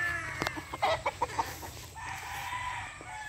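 Boston Red and Boston Black chickens give a short burst of clucks, several quick close calls in a row, then a soft ongoing murmur of fowl in the background.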